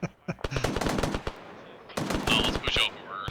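Bursts of rapid automatic gunfire crack out during a milsim field exercise, two clusters of close, loud shots separated by a short pause, with faint voices in between.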